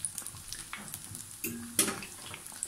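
Croquettes fry in hot, reused oil over a strong flame, giving a soft sizzle with scattered crackles and a couple of louder pops or utensil knocks, heard alone.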